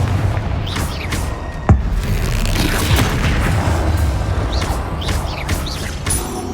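A Confringo blast spell in Hogwarts Legacy goes off as one sharp, loud boom that rises out of a dense, rumbling roar of combat and effects.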